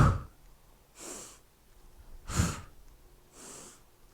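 Breath exhaled in an energy-boosting yoga side body flow, heard as three or four breathy puffs about a second apart, close and fairly soft.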